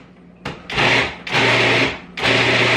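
Food processor blending vegan pesto with lemon juice, whirring in three steady bursts separated by short pauses, loud and close with no talking.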